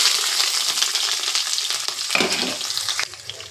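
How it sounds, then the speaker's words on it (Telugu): Chopped onions and green chilies fry in a hot pan for a chicken fry, giving a loud, steady sizzle with a few stirring scrapes and a brief drop in intensity near the end. "బాగా ఫ్రై చేయాలి గోల్డెన్ కలర్ వచ్చే వరకు కూడా వేయించాలి"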